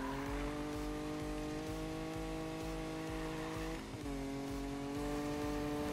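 Nissan GTR drift build in the Need For Speed video game, its engine holding a loud, steady high-revving drone with a brief dip and recovery partway through, no voices.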